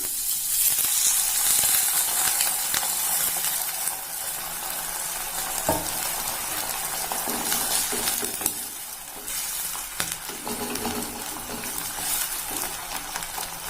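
Snake gourd cooking in a pan with salt and a little added water, giving a loud continuous sizzle and bubbling hiss, with occasional stirring clinks, close up and without speech.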